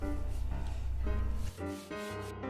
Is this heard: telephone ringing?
no